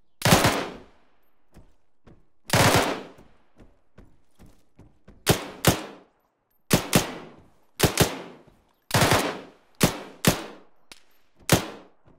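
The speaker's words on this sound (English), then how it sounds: "charging a bunker with suppressive fire is kind of cool" Machine gun bursts hammer out during a bunker assault in a war video game, loud and close, arriving as repeated sharp volleys separated by short pauses and single scattered shots.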